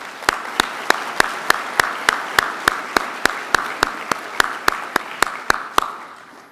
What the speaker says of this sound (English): Let's give all of this year's winners one more big round of applause for all of their